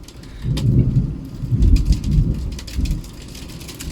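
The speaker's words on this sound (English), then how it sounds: "That's how heavy the rain was on the window." Heavy rain drums against a window during a thunderstorm, with low rolling rumbles of thunder swelling and fading over a steady patter, no voices present.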